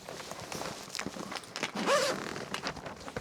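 A zipper is drawn on a nearly new food delivery bag for cyclists, a faint, scratchy running zip with soft creaks and handling rustle, rising briefly in a quick pull near the middle.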